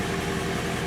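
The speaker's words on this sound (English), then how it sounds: "first startup was extremely loud" BMW E92 M3 with a Borla exhaust idles in a brief, dense, steady burst of low engine rumble and throbbing exhaust, loud and close with no talk.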